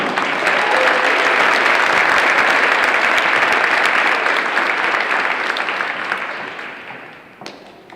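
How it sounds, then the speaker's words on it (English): An audience claps for student award winners at a school ceremony, a loud, dense round of applause that holds steady for several seconds and then gradually tapers off toward the end. "Give them one more round of applause."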